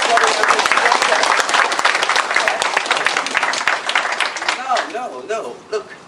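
An audience applauds at a martial arts demonstration, dense clapping that fills the room loudly and then thins out toward the end as a voice starts speaking over it.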